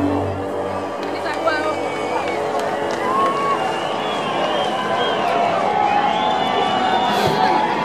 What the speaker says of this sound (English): make some noise for Annie Mac